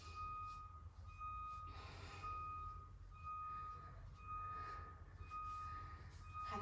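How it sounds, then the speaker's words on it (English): Intermittent reversing beeps from a vehicle outside, a steady high tone pulsing in repeated bursts over a constant low rumble, heard at a distance through a room. "if you can hear that beeping"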